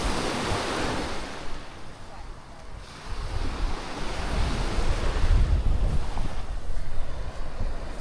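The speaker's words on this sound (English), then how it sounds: "barefoot on the beach here with the sound of the waves" Ocean waves wash steadily onto a beach at Playa del Carmen, a continuous roar of surf with gusts of wind buffeting the microphone.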